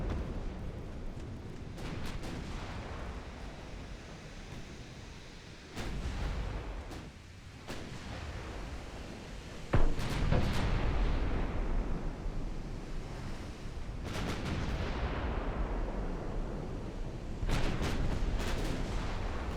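Naval guns fire in a turn-of-the-century warship battle in Ultimate Admiral Dreadnoughts, with repeated heavy booms and rumbling salvos over a wash of sea and wind, growing louder toward the end.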